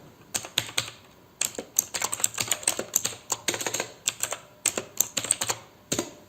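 Someone types on a computer keyboard, a close series of sharp key clicks coming in quick bursts and short pauses, fairly loud with no talk over them.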